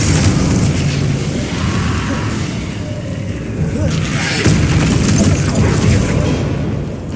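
A Bombarda spell goes off in the Hogwarts Legacy video game, a loud blast with rumbling, whooshing spell effects over a dense game soundtrack that stays full and sustained throughout.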